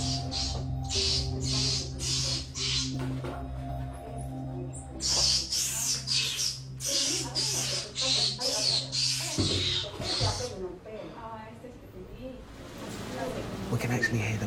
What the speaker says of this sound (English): We can actually hear the monkeys that the woman's trying to sell.